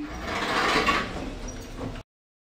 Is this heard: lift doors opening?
yes